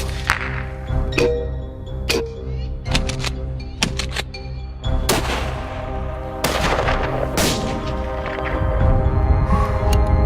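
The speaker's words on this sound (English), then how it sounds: "the sound of gunshots begins" Gunshots ring out during a baboon hunt on a South African safari, a dozen or so sharp cracks at irregular intervals, some near and loud, others sharper and echoing, over a steady engine drone.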